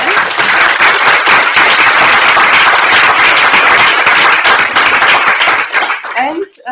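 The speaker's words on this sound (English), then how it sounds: "let us clap with both speakers again" A conference audience gives both speakers a sustained round of applause at the close of an education policy debate, with dense, loud clapping that fills the room for about six seconds before thinning out and ending.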